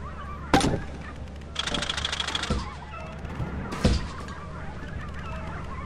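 Baboon Hawk creature calls in the video game Lethal Company: sharp honking, goose-like cries in a few separate bursts, fairly close, with a sharp knock and a harsher rasping stretch between them.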